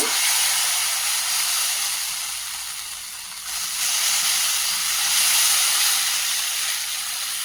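Ghee hissing and sizzling steadily in a hot dosa pan (tawa) while making a sweet potato bun dosa, a broad close hiss that dips briefly midway and then swells again, with no talking.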